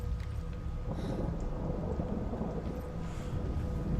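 Rain and rolling thunder from the video game Hellblade: Senua's Sacrifice fill the scene as a steady, dense downpour hiss under deep, continuous rumbling, with no voices.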